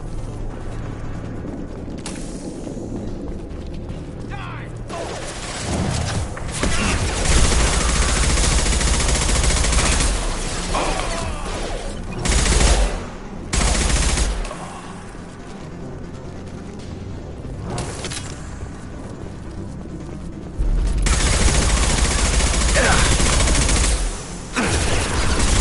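Sustained automatic gunfire in Mass Effect 2, with loud bursts and mechanical clatter running through most of the stretch, rising and falling in intensity with brief lulls between volleys.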